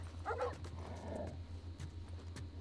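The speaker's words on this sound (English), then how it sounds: "The dogs are out there and I refuse to go out there because I will not kill dogs" Dogs barking in The Last of Us Remastered, a couple of short yips and a whimpering bark over a low steady game hum, moderately distant.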